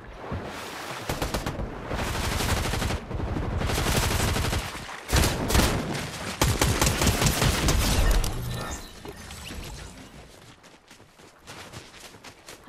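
Gunfire in the Fortnite video game: dense bursts of rapid automatic shots and overlapping volleys, loud and sustained for several seconds before thinning into scattered fainter shots.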